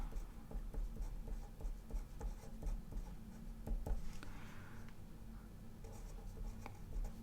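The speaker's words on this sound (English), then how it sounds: "I'm just going to write exterior." Pen scratching across the paper of a spiral happy planner as a word is handwritten, a soft continuous scribbling close by over a low steady room hum, with no talking.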